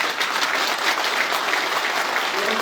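A brief burst of dense, steady applause from an audience gathered at a political party office event, many people clapping together loudly and evenly with no talk over it.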